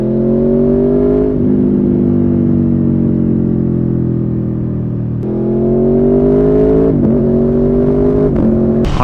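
A 2018 Aprilia Tuono V4 motorcycle being ridden, its engine droning loud and close with steady harmonic tones that rise and fall through gear changes, a brief dip mid-ride and sharper revving bursts near the end, no talking.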